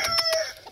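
A hen gives a short run of clucks, three quick rhythmic pulses followed by a softer one, close and fairly loud with no talking.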